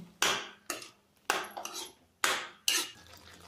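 Semolina barfi mixture with almonds, dry dates, raisins and fox nuts is stirred in a pan, giving five or six scraping metal-on-pan strokes in an irregular rhythm, close and clear with no talk.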